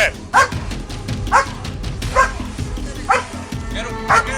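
A police dog barks repeatedly at a domestic call, with sharp barks and yips about once a second. Officers and someone shout in Spanish and English over and between the barks.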